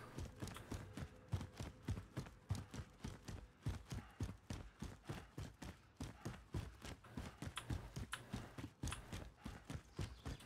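Horse hooves clip-clopping in the Call of Duty video game, a fast steady run of close, crisp hoofbeats in an unbroken galloping rhythm, with no speech over it.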